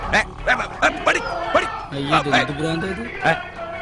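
A dog in a Malayalam film scene gives a quick run of short yips and barks with some whimpering, close and loud, mixed in with voices calling out.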